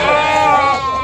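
Sheep bleating at a busy livestock market selling sheep and goats, a loud close bleat held for about a second.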